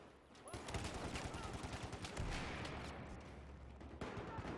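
Rapid bursts of automatic gunfire from the video game Battlefield 4, loud and dense, with overlapping shots and blasts sustained throughout and a brief drop near the end.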